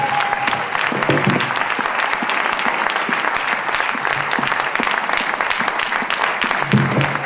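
A church congregation applauds during a French-language worship service. The clapping is loud, dense and continuous throughout, with faint voices mixed in.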